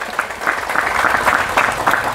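Applause from an audience honouring santri at a National Santri Day event; dense, continuous clapping from many hands, loud and fairly close, with no speech over it.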